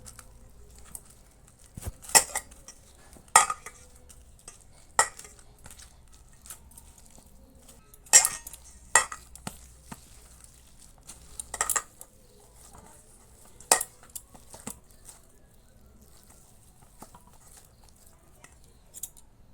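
Spices, salt, chaat masala, hing and dried fenugreek (kasuri methi) being mixed by hand in a bowl for methi paratha dough, heard as scattered clinks and scrapes of the bowl in irregular bursts against a quiet kitchen.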